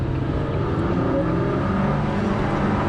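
A 2019 Ford GT engine revs hard with a steady, loud low howl and broad roar, sustained throughout with no voices.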